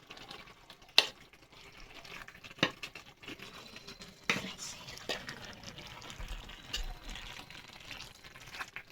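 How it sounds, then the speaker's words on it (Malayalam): A cooking dish being stirred in a pot, with soft wet scraping and occasional clinks of a utensil against the rim, faint and fairly close, with no talking. "ഇനി നമുക്ക് നല്ലോണം ഇളക്കി വെക്കാം"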